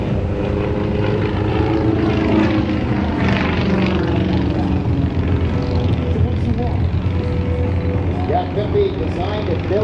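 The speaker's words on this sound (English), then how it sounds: "Designed and built by the YAK aircraft company, powered by that very familiar M14 Venev engine." A Yak-50 aerobatic aircraft with a 9-cylinder air-cooled M14 radial piston engine roars loudly and steadily throughout at an air show, its propeller drone shifting slightly in pitch as it passes, with announcer talk underneath.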